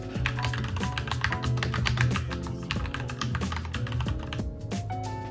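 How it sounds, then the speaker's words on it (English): Fast typing on a computer keyboard produces a dense, steady stream of clicks under background music, with no talking. "I'm going to practice typing super quickly"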